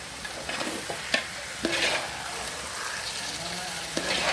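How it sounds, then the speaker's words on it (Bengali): Rice being stirred and mixed in a pan, with repeated scraping strokes over a steady soft sizzle, close by and moderately loud, no talking. "এইভাবে মিশিয়ে নিচ্ছি সবগুলো চাউল"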